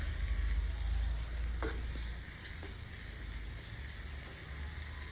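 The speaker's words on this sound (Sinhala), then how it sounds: "දැන් චිකන් ටික හොඳට මේකේ කවලම් කරගන්නවා." Pieces of chicken frying and being stirred in a hot pan, a steady sizzle with a couple of scraping spoon strokes against the metal, close and clear.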